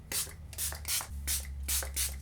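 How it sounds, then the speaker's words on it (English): Quick repeated pump-spray hisses of thickening hair spray applied all over hair, about six short bursts in a steady rhythm, close by, with soft rubbing sounds between them. "apply K18 thickening spray all over"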